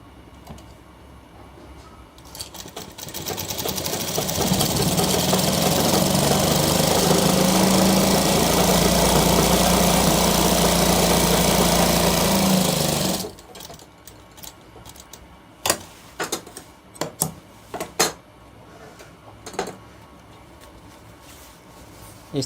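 Sewing machine running steadily while stitching a boot-style seam along a shirt button placket, a continuous loud motor whir for about ten seconds, then stopping, followed by scattered clicks and handling taps.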